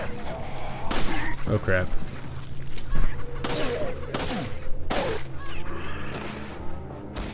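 Gunfire in the Resident Evil 4 video game sounds as several sharp bursts with impacts over steady game background noise, while a person talks over the action.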